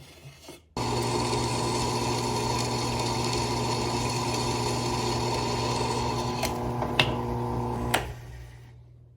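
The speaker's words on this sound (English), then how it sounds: "Now I'm going to drill my bolster holes." A power drill whines steadily for several seconds while drilling pin holes in a knife bolster, a sustained close mechanical drone that stops briefly with a few sharp scrapes near the end.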